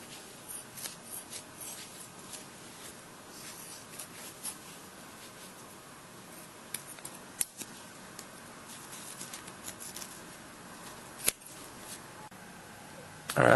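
Someone roughly cuts a foam insert for a Plano rifle case. Quiet, scattered scratchy cutting and rustling noises fill a hushed room, with no voices.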